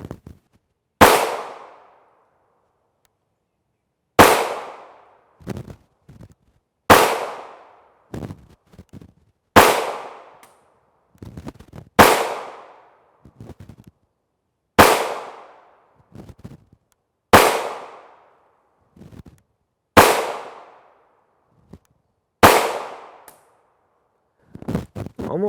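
Ruger 5.7 pistol with a factory threaded barrel firing 5.7x28mm Detroit Ammo rounds, nine sharp loud shots spaced a few seconds apart, each with a ringing decay, plus faint handling noises between.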